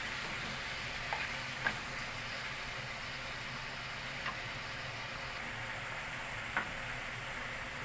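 Onions frying with minced meat in a pan give a steady, even sizzle with a few faint clinks from stirring, heard up close and alone.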